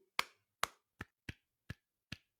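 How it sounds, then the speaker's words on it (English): A man claps his hands six times in a short, evenly spaced series, each clap sharp, dry and close, with silence in between and no voices. "He is clapping."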